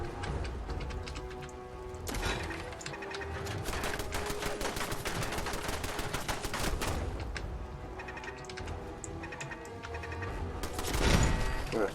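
Rapid automatic gunfire from a turret in the Fallout 4 video game, a dense continuous burst of shots running through most of the clip at close range with game ambience behind.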